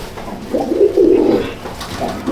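Imported teddy pigeons coo inside an enclosed loft, a few low, rolling coos rising and falling close by with no talk.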